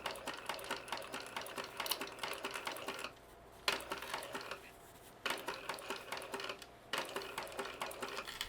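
A sewing machine stitches the lining seam of a fabric wristlet in fast, steady mechanical clatter, running in bursts with short pauses between them, close by and with no voices.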